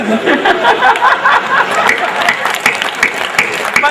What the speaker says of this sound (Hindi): ताली वाली जम के बजा दो, विधायक महोदय भी बजा रहे हैं